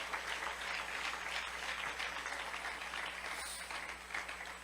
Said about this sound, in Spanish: Que haga un aplauso a nuestro Dios de gloria.